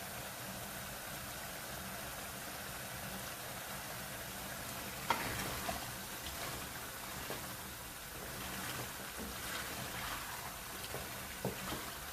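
Masala and chicken fry in a karahi with a soft, continuous sizzle, broken by occasional stirring scrapes and clinks, heard fairly quietly with no one talking.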